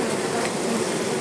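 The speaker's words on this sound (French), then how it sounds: "Les abeilles sont là. Ici, dans les cadres." Honeybees crowd the frames of a hive during a gentle bee rescue, giving a dense, steady, close buzzing drone with no pauses over a brief moment.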